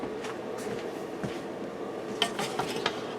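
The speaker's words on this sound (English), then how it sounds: "Now I'm going to give this a quick stir." A spoon stirs chicken broth in a pressure cooker: soft scrapes and light metallic clinks come in quick, uneven strokes, faint and close.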